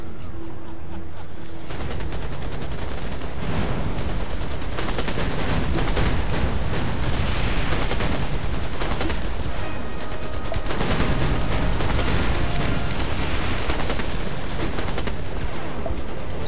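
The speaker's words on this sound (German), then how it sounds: "Fahrzeug unter Beschuss" Sustained gunfire in the strategy video game Anno 2070 as a vehicle comes under attack, dense rapid bursts and loud booms layered continuously, with a brief quieter moment at the start.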